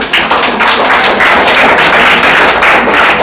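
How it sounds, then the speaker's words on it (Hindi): Classroom audience clapping steadily for a student called up to speak, a dense, loud patter of many hands throughout, with no voices over it. "चलिए प्रीति कुमारी आइए, ताली बजाओ भाई।"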